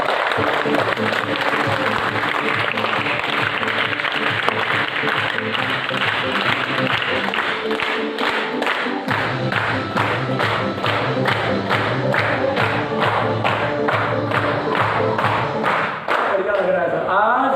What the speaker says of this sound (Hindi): एक बार हम दोनों हाथ ऊपर करके मर्दों वाली ताली के साथ इस प्रोग्राम की शुरुआत करते हैं